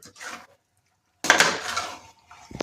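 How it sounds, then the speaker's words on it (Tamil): Ingredients for chicken curry being sautéed, with a spoon clattering and scraping against the pan in two short bursts separated by a silent gap; close and moderately loud, no voices. "அதை போட்டு நல்லா கொஞ்சம் ஒரு 10 நிமிடங்கள் வதக்க வேண்டும்."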